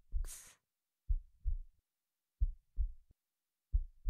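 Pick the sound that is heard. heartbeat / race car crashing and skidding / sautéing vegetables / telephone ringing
heartbeat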